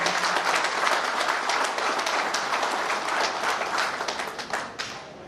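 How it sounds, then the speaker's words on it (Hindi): A conference audience at a business presentation bursts into strong applause, a dense and steady wash of many hands clapping at once, sustained for several seconds and thinning slightly toward the end. "तो एक बार चाहता हूँ आप लोगों के लिए जोरदार तालियां हो।"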